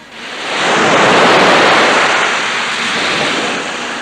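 Ocean surf surges in and roars on the shore at Tritip beach, a broad rushing wash that swells after a moment and stays loud before easing slightly.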